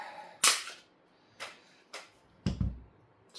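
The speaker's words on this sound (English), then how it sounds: "So first disassemble my Glock a little bit" A Glock 34 Gen 4 pistol is taken apart, producing four sharp metallic clicks and clacks. Each one is spaced apart, close and fairly loud, with a heavier knock near the end.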